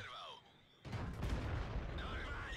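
A loud, booming tank cannon blast in a video game erupts and rolls on with heavy low rumble and debris-like noise, following a quieter stretch with faint game sounds.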